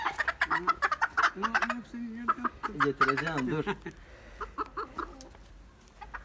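Dwarf Cochin chickens cluck and squawk close by in a coop in short repeated bursts, with a person briefly speaking over them.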